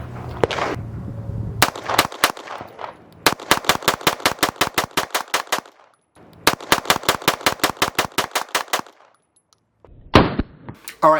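Rapid strings of sharp gunshots from a ported 2011 pistol at an outdoor range, fired in fast bursts of a dozen or so shots with short pauses between strings.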